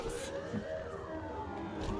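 Police siren in the video game Cyberpunk 2077, a wavering wail heard briefly over game background noise.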